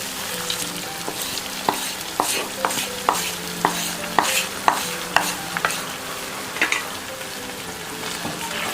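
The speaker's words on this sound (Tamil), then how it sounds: "இப்போ இந்த அல்வாவோட நல்லா மிக்ஸ் பண்ணுங்க." Fried bread is stirred into sweet bread halwa in a pan, a spoon knocking and scraping the metal in quick, regular strokes over a soft sizzle, close by and with no speech.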